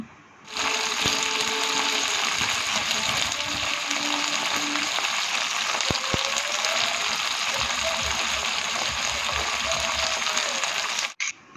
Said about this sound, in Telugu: పచ్చిమిరపకాయ ముక్కలు అయితే ఆయిల్ అయితే మంచిగా ఫ్రై అవుతున్నాయండి